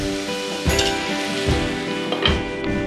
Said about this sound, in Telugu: ఈ ఉల్లిపాయ గోల్డెన్ కలర్ వచ్చేంత వరకు వేయించుకోవాలి.